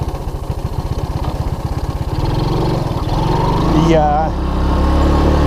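A Honda ATC185S three-wheeler that has been sitting for a while runs with the choke on, a close, steady, buzzing putter with a brief voice near the end.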